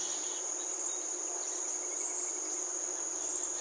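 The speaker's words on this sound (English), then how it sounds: "videotaped just the audio of the crickets" Crickets chirp in daytime on Max Patch, a steady, continuous high-pitched insect chorus that runs unbroken throughout, with no voices.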